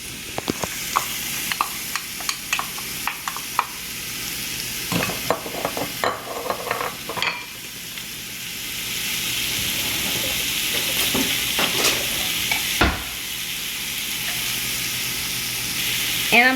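Butter, onions and celery sizzle in a pan turned down to medium heat, starting with scattered crackles and utensil clicks that settle into a steady, close frying hiss.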